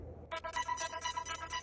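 A short bright synth melody, compressed and EQ'd, plays as a quick run of chiming, bell-like notes for under two seconds, clear and evenly loud with nothing else alongside.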